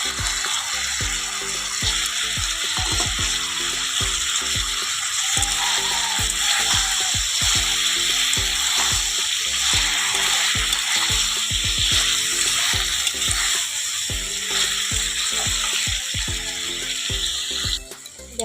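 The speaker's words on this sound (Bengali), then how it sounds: "দেখো ভালো করে কষিয়ে নেব বন্ধুরা" Spice paste sautéing in a pan for a Bengali bottle gourd, eggplant and potato chorchori, giving a steady close sizzle with repeated scraping and stirring clatter throughout.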